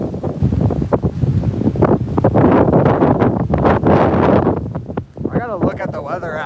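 Strong wind buffets the microphone in continuous roaring gusts, with a voice faintly audible toward the end.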